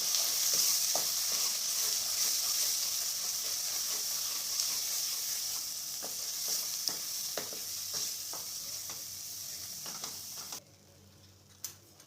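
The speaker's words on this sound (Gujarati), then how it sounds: "આને થોડી વાર શેકીશું આની અંદર।" A spice and paneer mixture fries in a pan with a loud, steady sizzle and repeated scraping stirs. The sizzle drops away abruptly near the end, leaving a quieter background with one last clink.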